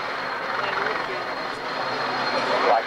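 A helicopter at an airshow drones in a loud, steady whir of engine and rotor that continues throughout, with a voice speaking faintly over it.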